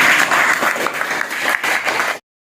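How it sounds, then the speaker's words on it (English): A crowd applauds steadily for a couple of seconds, a dense, even wash of clapping that stops abruptly. "Clap for him lot."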